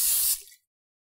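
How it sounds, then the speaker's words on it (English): Olive oil cooking spray hissed into a bowl while making homemade white bread, a single short loud spray burst that cuts off abruptly into silence. "I'm just gonna spray this with a little olive oil spray."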